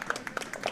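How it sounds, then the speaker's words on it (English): Scattered light clapping from a small crowd at a curling rink as teams come off the ice, brief and fairly faint. "And applause for teams coming off the ice."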